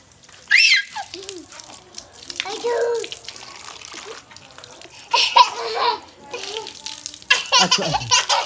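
Water runs from an opened tap as two young brothers play in it on a hot summer day, a broad splashing rush in bursts under children's laughter and voices.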